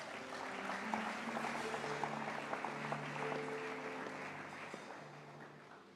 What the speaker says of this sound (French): Acclame si je dois commencer.